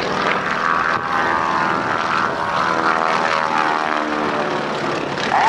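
A Boeing Stearman biplane flies a roundhouse loop at a naval air station airshow, its radial propeller engine a loud, steady drone throughout with a slight wavering pitch.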